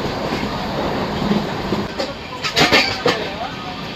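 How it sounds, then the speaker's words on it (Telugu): A Visakhapatnam–Bhubaneswar Vande Bharat Express rushes past at speed near Korukonda station, a loud continuous rumble with sharp bursts of rattling as carriages go by; people talk over it. "విశాఖపట్నం భువనేశ్వర్ వందే భారత్ ఎక్స్ప్రెస్."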